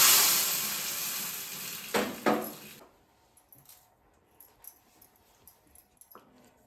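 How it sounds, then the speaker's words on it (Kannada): Asafoetida tempering hits hot oil for a jackfruit sambar with a loud, close sizzle that lasts about three seconds and then dies away, leaving only faint scattered clicks and pops. "ಅದಕ್ಕೊಂದು ಹಿಂಗಿನ ಒಗ್ಗರಣೆ ಹಾಕ್ಕೊಳ್ಳೋಣ."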